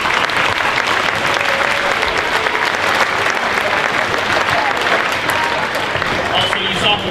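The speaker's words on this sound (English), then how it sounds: "Could you please give them a round of applause?" Audience applause at a school band Christmas concert, a loud, continuous round of clapping from a large crowd filling the whole stretch, with some faint voices mixed in.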